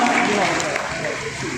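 Audience at a felicitation program applauding a deputy mayor, a dense, steady wash of clapping that holds at an even level throughout.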